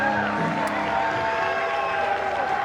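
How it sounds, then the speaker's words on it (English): Home crowd at a Florida Gators college softball game against Team Japan cheers and claps steadily, a loud, dense wash of applause and voices. "This Gator crowd trying to cheer on this offense."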